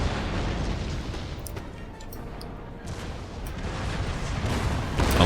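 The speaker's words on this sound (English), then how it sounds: "What a volley at the last minute from the 12-pounders." A volley from 12-pounder cannons in Napoleon Total War, heard as a dense rumble of distant booming artillery over a continuous battlefield roar, with sharp pops scattered through it.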